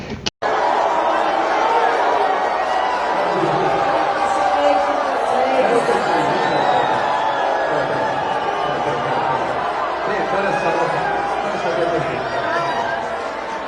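A large concert crowd at a show in Mato Grosso do Sul booing loudly and insistently. The jeering roar is dense and sustained, with voices and some laughter mixed in.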